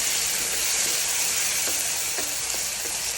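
Beans, peas and carrots frying in a pan for a fenugreek pulao, a steady bright sizzle hissing continuously and close, with a few soft stirring clicks and no talking.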